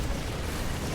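Explosions as an Immortal blasts apart tanks in the StarCraft video game, heard as a dense, continuous rumbling roar of blasts filling the whole second with no clear gaps.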